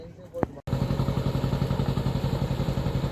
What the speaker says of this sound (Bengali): সৌরভ ওই বোট চালিয়ে নিয়ে যাচ্ছে হাল ধরে